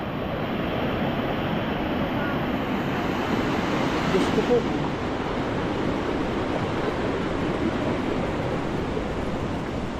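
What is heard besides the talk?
flood water rushing, waves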